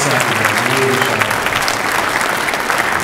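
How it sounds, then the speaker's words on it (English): Steady, loud applause from a school concert audience rewarding the orchestra after its set, dense clapping throughout with a faint crowd murmur and no clear talk. "One more round of applause for Sinfonia."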